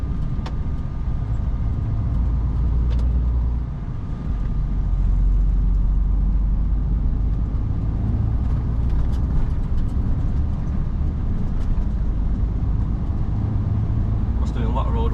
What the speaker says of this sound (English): There's a truck coming from the other direction as well.